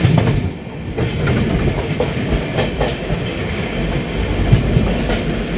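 Onboard the 13126 Sairang–Kolkata Tri-Weekly Express running hours late near Dalkhola, a close, continuous rumble with rhythmic clickety-clack of wheels over rail joints fills the whole stretch.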